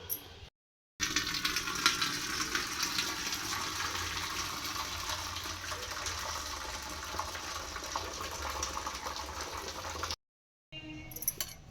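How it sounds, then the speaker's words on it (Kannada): Cooking water poured off boiled lentils (chana dal) in a home kitchen during festival cooking, a continuous pouring, splashing rush that stays steady for about nine seconds, cut off by brief silences at both ends. "ಈಗ ಅವನ್ನ ನೀರೆಲ್ಲ ಬಸ್ಕೊಂಬಿಡ್ತೀನಿ ರೀ ನಾನು"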